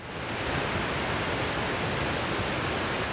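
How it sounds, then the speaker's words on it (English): Steady, dense roar of falling water, Spearfish Canyon Falls in South Dakota heard up close, continuous and loud with no breaks. "And that sound you hear right now, that is from Spearfish Canyon Falls."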